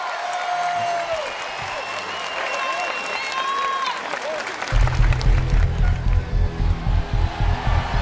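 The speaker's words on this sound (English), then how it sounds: "Give him a round of applause." Applause rolls through a crowd, a steady, moderately loud clatter of many hands with high whistles and cheers scattered through it, joined partway by a heavier thumping rhythm.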